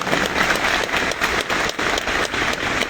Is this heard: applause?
yes